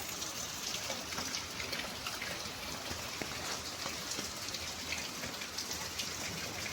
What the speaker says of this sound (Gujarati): આવો વરસાદ આવે છે